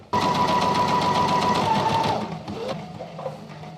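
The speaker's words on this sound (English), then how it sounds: "sew around the edges of the pocket bags to get them sewn together" A sewing machine stitches around the edges of suit jacket pocket bags, running fast and steady for about two seconds before slowing and tapering into softer, uneven stitching.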